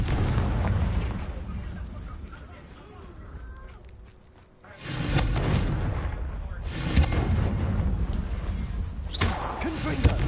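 Confringo blasting spells go off in a Harry Potter video game as loud, booming explosive bursts, with one heavy blast and further rumbling impacts under game noise.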